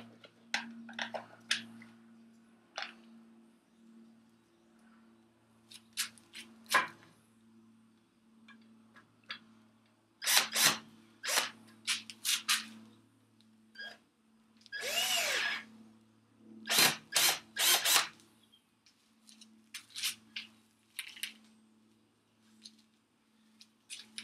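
A power drill bores into wood in short, irregular bursts, with quiet pauses and faint ticking between runs; moderately close, no talk.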